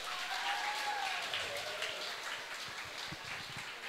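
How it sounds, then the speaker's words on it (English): Audience applause after a cultural dance performance at a school event, a continuous patter of many hands clapping at moderate level beneath a faint voice. "Let's give them a round of applause."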